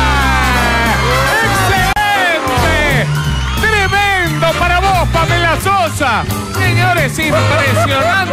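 An audience cheers, whoops and shouts during a dance performance on a televised dance competition, loud crowd voices over pounding music that carries through the whole stretch.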